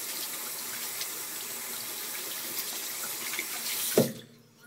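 A badger shaving brush is rinsed under a running tap, a steady soft stream of water splashing into a sink for several seconds before cutting off with a brief clunk, then quiet.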